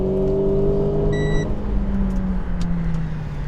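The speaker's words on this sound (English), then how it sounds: "you get engine noise piped into the cabin, which you can hear makes quite a dramatic sound" A car engine hums and rises in pitch as it revs, with a steady droning tone and road noise heard from inside the cabin.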